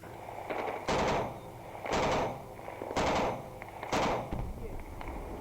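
Four loud, evenly spaced bursts of gunfire at aerial targets in combat, each about a second apart, stand out over a constant rough background hiss.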